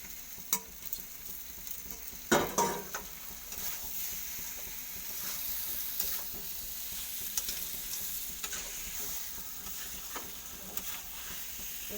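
Mutton, potatoes and garam masala fry in a pan for a thin Bengali mutton broth, a continuous crackling sizzle broken by scattered pops and a loud clatter of stirring early on.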